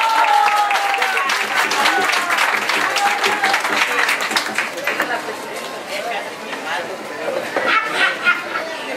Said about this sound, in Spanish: Quiero que le brinden un fuerte aplauso